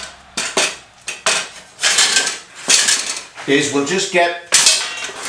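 A piece of aluminium picked up and handled at a workbench during a Yamaha Commando motorcycle build, giving a run of sharp metallic clanks and knocks in uneven bursts, close and fairly loud, with someone talking between them.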